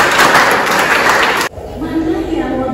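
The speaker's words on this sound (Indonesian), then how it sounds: "Oke, tepuk tangan." A classroom of students claps in a dense burst for about a second and a half, then it cuts off abruptly to a quieter room.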